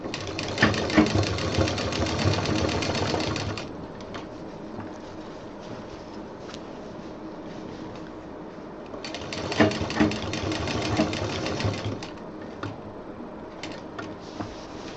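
A sewing machine stitches a DIY handbag in two loud, rapid mechanical bursts, one at the start and another partway through, with quieter handling sounds in the gap between them.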